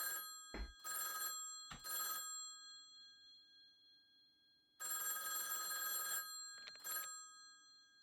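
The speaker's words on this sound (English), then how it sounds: "Answer the phone." Telephone ringing in a video game, sharp electronic trills in separate bursts with pauses between them, clear and alone.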